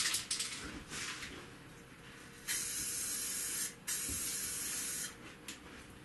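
Red Plasti Dip aerosol can sprayed in short bursts, a loud hissing spray that starts and stops several times, with quieter pauses and faint handling noise between bursts.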